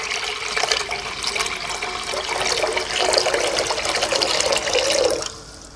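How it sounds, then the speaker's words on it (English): Tap water runs steadily into a cooking pot being filled for pasta, a loud continuous splashing gush that swells slightly before cutting off near the end. "I'm going to add a lot of water and a lot of salt."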